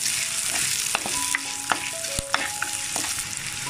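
Onions and garlic sizzle steadily in a clay pot while a utensil scrapes and stirs through them, with scattered clicks and knocks over the continuous frying hiss and no talking.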